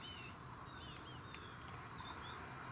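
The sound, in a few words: black-throated green warbler singing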